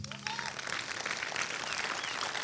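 An audience applauds at the closing ceremony and awards of the Royan 2022 Festival du film de société, a soft, steady wash of clapping heard from a distance for a couple of seconds.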